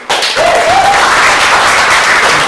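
Audience applause at a poetry reading in a memorial reading series, a dense burst of clapping from a crowd indoors that holds steady throughout.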